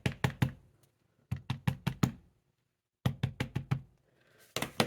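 A MISTI stamping tool's hinged door being closed and dropped shut repeatedly during card-making: sharp, hard knocks in quick clusters of three to five, loud and close, with short silent gaps between the bursts.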